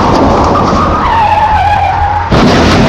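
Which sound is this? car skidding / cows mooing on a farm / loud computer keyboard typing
car skidding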